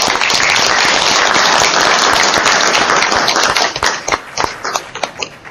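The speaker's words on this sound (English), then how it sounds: "a round of applause" Loud applause from a civil society forum audience on the African Growth and Opportunity Act, dense clapping that holds strongly for several seconds, then breaks into scattered individual claps as it dies away.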